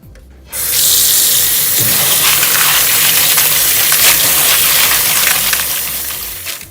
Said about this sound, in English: you're going to thoroughly rinse the beans several times in a colander